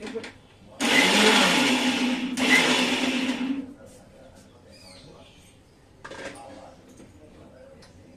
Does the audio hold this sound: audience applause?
no